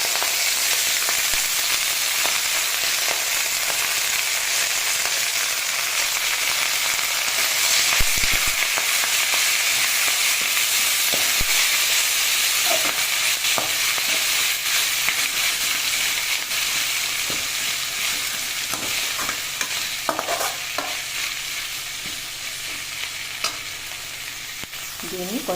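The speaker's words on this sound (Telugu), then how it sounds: "ఇప్పుడు బాగా కడిగి పెట్టుకున్న మునగాకుని వేసుకోవాలి" Drumstick leaves and curry leaves fry in a hot pan with a continuous loud sizzle, broken by occasional scraping stirs and clinks of a utensil.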